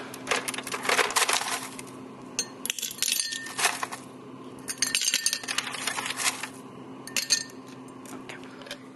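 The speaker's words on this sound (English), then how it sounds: "So I put 5 ice cubes in the shaker and then 5 ice cubes in the cup." Ice cubes dropped one after another into a cocktail shaker and then a cup, giving bursts of hard clinks and rattles with short pauses between the pours, close and fairly loud.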